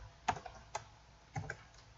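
Sparse, quiet keystrokes on a computer keyboard, a few separate clicks spaced irregularly and heard close up against a near-silent background.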